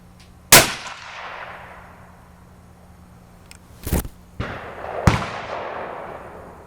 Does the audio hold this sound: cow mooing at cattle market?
no